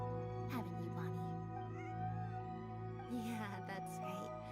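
A cat meowing in a video game, short mews rising over steady background game music while a person talks.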